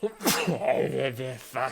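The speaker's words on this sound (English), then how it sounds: "I gotta sneeze." A person sneezes once, sharp and close, near the start of a tabletop roleplaying session, then mutters a word as talk continues.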